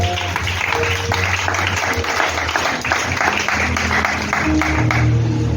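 Church congregation applauding together, a steady dense wash of clapping lasting several seconds with low organ or keyboard tones sustained underneath.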